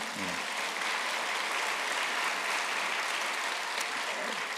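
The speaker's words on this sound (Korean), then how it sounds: "그냥 박수만 치지 마시고" An audience claps steadily for a lawyer and author at a lecture on freedom and election fraud, a dense, continuous wash of applause that holds at an even level with no gaps.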